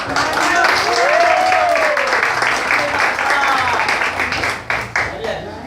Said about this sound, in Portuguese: Manda uma salva de palmas para cá.